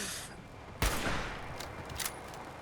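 Gunfire in the Fallout 4 video game during a survival fight against creatures emerging from fog, heard as a sharp loud burst followed by a few scattered fainter shots over a steady background hiss.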